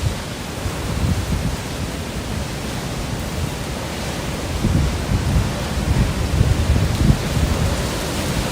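Typhoon Man-yi (Pepito) in Baler, Philippines: steady, loud broadband roar of wind-driven rain with low rumbling swells that could be distant thunder, continuous throughout with no voices.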